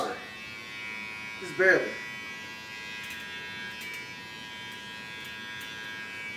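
An electric hair clipper hums with a steady, even buzz throughout, and a voice briefly speaks over it partway through.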